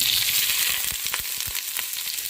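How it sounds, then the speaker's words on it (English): Onions and other food frying in a pan for a rigatoni dish give off a steady high sizzle, close and moderately loud, with soft scattered taps and stirring clicks underneath and no talking. "we are frying good food."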